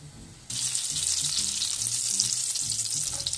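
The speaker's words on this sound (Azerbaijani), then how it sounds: "Tavaya kərəyağı döküb əridirik." Butter melting and sizzling in a frying pan for eggplant sırdağı, a steady loud frying hiss that starts abruptly after a brief quiet moment and continues close up, with soft low clatter underneath.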